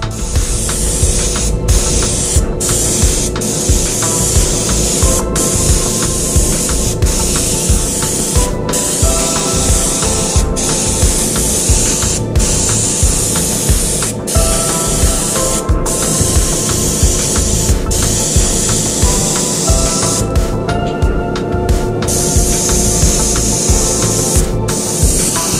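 A two-stage trigger spray gun lays more colour onto a custom Harley-Davidson 48 fuel tank, giving a steady, close, loud hiss that runs throughout with short breaks as the trigger releases.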